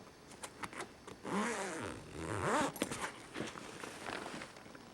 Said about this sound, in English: Why do they have two zippers?